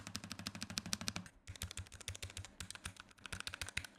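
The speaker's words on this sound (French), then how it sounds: "les sons des touches du clavier low profile Logitech" Rapid, even keystrokes clatter close by on a Logitech low-profile mechanical keyboard, a continuous tapping rhythm with a brief pause partway through.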